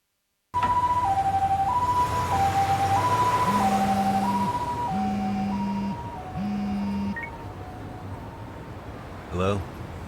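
An ambulance siren in the video game Lost Judgment wails in an alternating two-tone pattern, joined by a lower repeating electronic tone, then fades off and leaves a quieter background with a short click near the end.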